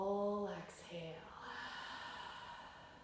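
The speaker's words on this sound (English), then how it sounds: "Let's take one more complete breath here. And a full exhale." A long, full exhale during a calm bedtime yoga practice, a soft airy breath that fades out gently after a short voiced tone, close and quiet in a still room.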